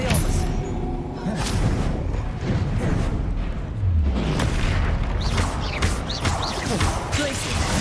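An Expelliarmus spell is cast in a Hogwarts video game, giving loud booming impacts and crashes over a busy, continuous combat din.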